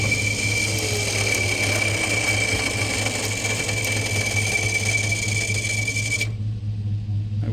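An electric winch strains to drag an abandoned 1970 Oldsmobile Toronado up onto a trailer, giving a loud, steady motor whine that cuts off abruptly near the end.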